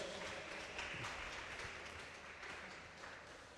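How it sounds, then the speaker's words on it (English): Crowd at a charity boxing event applauding steadily for a fighter entering from the red corner; a dense, even wash of clapping held throughout at a fairly low, distant-sounding level. "Let's give him a round of applause."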